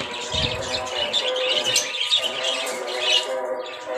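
Pet finches chirp in a home aviary alongside doves, giving a steady chatter of high tweets and calls at moderate distance, with no talking.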